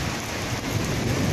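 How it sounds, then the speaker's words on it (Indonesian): Steady, dense rain pours down at a hotel in the Aziziyah area during the 2017 Hajj, just after a desert storm; a close, unbroken hiss with low rumbling beneath and no voices. "saat ini sedang hujan di hotel tempat saya tinggal"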